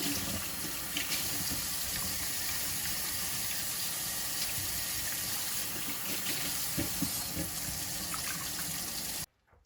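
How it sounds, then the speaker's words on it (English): Garden tomatoes being washed under a running kitchen tap, a steady close hiss and splash of water that continues throughout and then cuts off abruptly at the end. "First, I am going to wash all these tomatoes"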